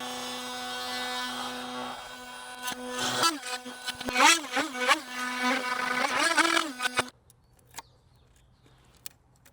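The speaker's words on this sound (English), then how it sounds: "I'm going to have to probably notch this with the multi-tool" An oscillating multi-tool notches a door to fit a Borg Locks BL2600 mechanical lock. A loud, close buzzing whine runs for several seconds, its pitch dipping and wavering as the blade bites, then stops abruptly.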